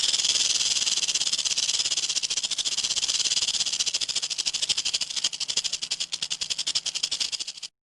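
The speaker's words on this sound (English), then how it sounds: "Rattlesnake." A rattlesnake produces a continuous, steady buzzing rattle with a hissy edge, close and loud, that grows choppier toward the end before stopping.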